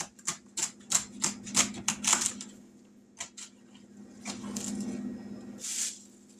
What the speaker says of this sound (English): Now we're going to chop up some celery.